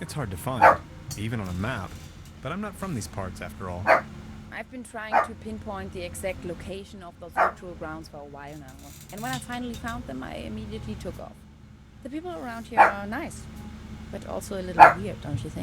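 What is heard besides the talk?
dog barking in the room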